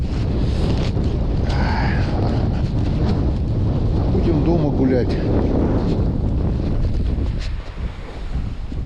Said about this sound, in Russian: Какой-то южный ветер.